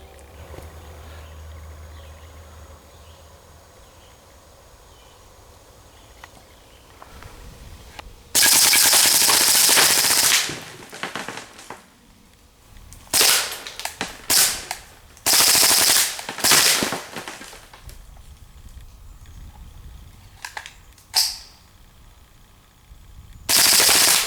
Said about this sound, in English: Let's try that again and see if it makes any difference at all firing in a little bit more rapid of fashion.